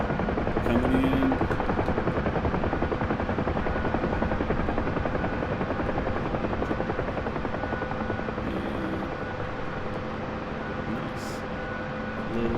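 A Huey helicopter rotor in a flight video game drones loud and steady as the aircraft slows and comes in to land, a dense continuous thrum with a slight fade toward touchdown.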